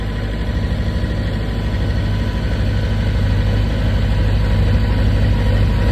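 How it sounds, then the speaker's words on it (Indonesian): A 40 kVA diesel generator runs unsteadily under load, its loud, low engine drone pulsing with an uneven, lumpy rhythm throughout, with no voices. "Ini mesin belum stabil ya karena tadi sempat kita isi solar"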